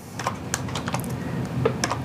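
Keys tapped on a computer keyboard during a programming session, a quick irregular run of clicks with short pauses, close and clear, no talking.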